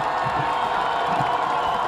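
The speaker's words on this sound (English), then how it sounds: "Let's hear the crowd" Crowd noise from a high school football game, Bishop Alemany at Lone Peak, swelling in a steady loud roar of cheering and shouting in the stands during a fourth-down play late in the game.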